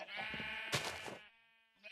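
Minecraft sheep bleating in a video game, two or three clear close bleats in quick succession, the last cut short, with no talk over them.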